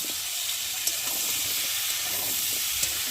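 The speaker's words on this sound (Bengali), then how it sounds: "আমি এখন কেটে রাখা আলুগুলোকে দিয়ে ভালো করে ভেজে নেব" Cut potatoes frying in hot oil while an egg curry is cooked, giving a steady broad hiss and sizzle that runs throughout with a few faint clicks, close by and unbroken, with no talking.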